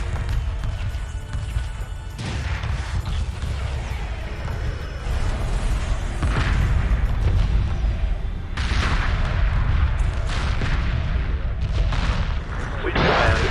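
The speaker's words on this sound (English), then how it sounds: "Phased cannon array online." A phased cannon array fires in a cinematic space battle game, with heavy repeated booms and blasts rolling continuously at high loudness.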